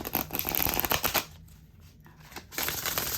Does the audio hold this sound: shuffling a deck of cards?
yes